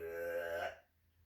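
A person reading aloud imitates a burp with the voice, one drawn-out croaky belch lasting under a second that cuts off into quiet.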